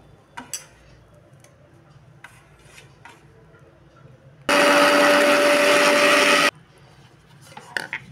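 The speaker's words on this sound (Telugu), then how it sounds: "ఇవన్నీ కూడా మనం పౌడర్ చేసుకొని పెట్టుకుందాం" A mixer grinder whirs loudly for about two seconds, grinding bread slices into powder, its steady high motor drone starting and stopping abruptly amid quieter clicks and handling noises before and after.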